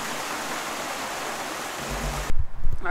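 Irrigation water rushes through an opened gate toward an alfalfa field, a steady close hiss of flowing water that stops suddenly, followed by a few low thumps and handling noises.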